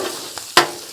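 Cabbage with sausage and shrimp frying on a Blackstone griddle, with a steady low sizzle broken by one sharp scrape or stir partway through.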